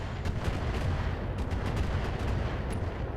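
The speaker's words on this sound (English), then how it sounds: "Oh, and now the missile turret's going as well." A missile turret in BattleTech fires a dense barrage, filling the space with continuous rumbling, crackling launches and impacts at steady loudness throughout, with no pauses or speech.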